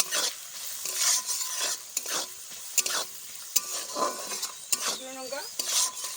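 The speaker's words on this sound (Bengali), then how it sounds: "পেঁয়াজটা লাল করে ভাজা করবো একটু" Onion fries in a pan with salt and turmeric, a soft sizzle under repeated spoon scrapes and clinks against the metal, stirred in uneven bursts at close range.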